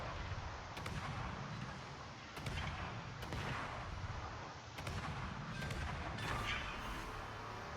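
Naval gunfire and explosions from World of Warships echo as distant booming salvos, several dull blasts spaced a second or two apart over a continuous low rumble, fairly faint.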